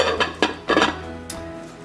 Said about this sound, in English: now you just put the lid on, set it to low